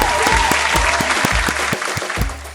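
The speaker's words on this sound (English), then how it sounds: "Let's get that round of applause going" A round of applause rings out from a crowd, dense rhythmic clapping with sharp beats, loud and steady before tapering slightly at the end.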